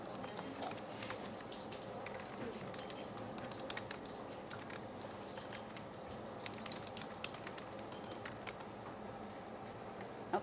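Light clicking of a computer keyboard as a web address is typed, soft irregular key taps scattered through a quiet room with a faint background hiss, no voices.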